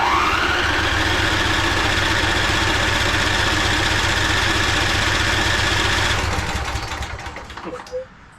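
The engine of a 2011 Craftsman PYT 9000 lawn tractor, sprayed with starter fluid, runs with a loud, rapid, even chug close by. After about six seconds it sputters and fades as it dies out.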